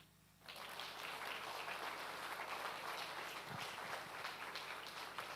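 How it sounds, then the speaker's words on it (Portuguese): A church congregation bursts into steady, sustained applause that continues evenly for several seconds, with a single brief thump partway through. "Aplauda Jesus."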